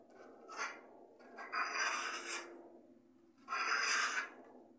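A trowel spreads thin mortar across a wall for a brick effect, giving soft rasping scrapes in three or four separate strokes, close and fairly quiet.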